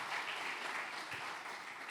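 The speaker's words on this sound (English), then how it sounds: "I like the applause" Faint, steady applause from an audience at a panel discussion on mergers and acquisitions in Latin America, a dense even patter of clapping heard at a distance with no talk over it.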